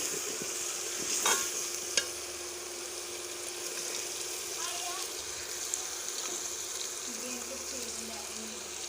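Tomatoes tipped into a pan of onions and garlic fried light brown for a Pakistani tarka pumpkin dish, giving a steady, fairly quiet sizzle with a brief clatter near the start.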